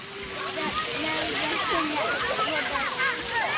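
Steady splashing and spraying water from splash pad fountains, including a waterfall, fills the clip, with children's voices chattering and calling over it throughout.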